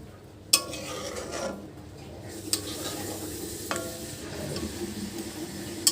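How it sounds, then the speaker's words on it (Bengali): Fresh cream being stirred into paneer butter masala in a pan, soft sizzling with a few sharp spoon-against-pan clicks, close and fairly quiet, no talk. "এই যে ফ্রেশ ক্রিমটা দিয়ে দিয়েছি, এবার একটু মিশিয়ে নেবো এটার সাথে।"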